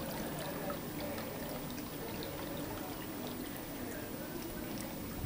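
A small Buddha water fountain on a terrace trickles and splashes softly and steadily, a faint continuous burble of running water with no talking over it.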